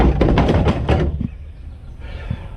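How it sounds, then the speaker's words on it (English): An old Jeep door is worked at close range, with a few sharp knocks and thunks at the start, then a couple of softer clunks against quiet outdoor background. "We're going to see how this door operates."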